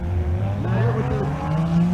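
A Toyota Supra drag car revs and accelerates hard down a quarter-mile strip at a Nebraska race event, its engine note climbing steadily, close and loud, with crowd noise and a voice mixed underneath.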